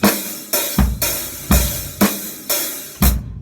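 A halftime rock drum groove: heavy kick and a booming, ringing snare land on a slow, spacious beat, loud and close with cymbal wash and no talking.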